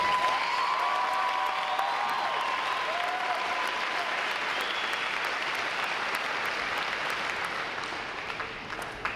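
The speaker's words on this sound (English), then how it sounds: "How about giving them a round of applause?" Audience applause at a U.S. Navy recruit training graduation ceremony, a broad, steady wash of clapping from a large crowd with faint cheering, easing slightly near the end.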